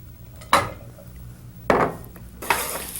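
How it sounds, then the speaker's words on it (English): Raisins tipped into a pan of hot ghee during an Indian feast cook-up, giving three sharp clattering bursts that flare into short sizzles, the last sizzle lingering, with no talking. "While the ghee's still hot, let's pop in our raisins."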